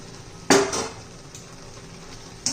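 A lid comes off a pot of cooked gram-leaf greens seasoned with country garlic, one sharp metallic clank followed by a brief rattle and a lighter knock a moment later, close by with no talk.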